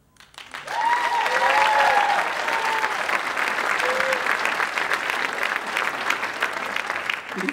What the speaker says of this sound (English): You can stand there if you want to get more claps.